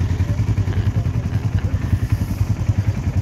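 Motorcycle engine idling close by in the Thar desert, a steady low rumble with a regular pulsing beat throughout, heard alone without talk.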